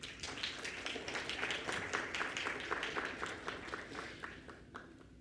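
Steady applause from an audience, many hands clapping together at a moderate distance, fairly quiet and sustained before tapering slightly.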